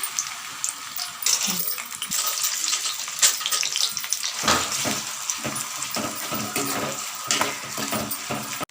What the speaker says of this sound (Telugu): తగినంత నెయ్యి వేసుకుని కొబ్బరి ముక్కలు